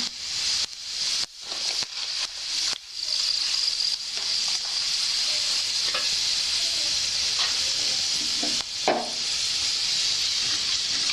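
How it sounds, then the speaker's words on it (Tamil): Steady, dense sizzling of fennel and fenugreek seeds frying in hot oil, close and continuous, with a few stirring clinks near the start. "இந்த சோம்பு வெந்தயம் ரெண்டும் எண்ணெயில் வந்து கொஞ்சம் வெடித்து வரட்டும்"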